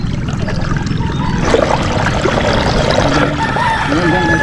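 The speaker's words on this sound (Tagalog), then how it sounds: "grabe pa rin yung agos na" Strong floodwater current rushing and churning past a house after a flood, a steady loud broadband roar throughout, with people talking faintly and a rooster-like call in the background.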